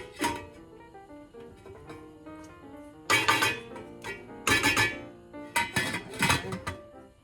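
A lid set onto a metal cooking pot of chicken sinigang soup, giving several sharp metallic clanks and clinks in clusters, close and fairly loud over a quiet kitchen background.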